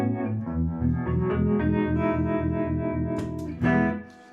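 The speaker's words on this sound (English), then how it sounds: "Of course, you have the harmonic vibrato, which sounds like a doggone univibe." An electric guitar runs through a harmonic vibrato effect with a univibe-like sound, playing a sustained chord that pulses in a steady, even wobble, then ends with a short strummed accent. The guitar plays alone and fairly loud.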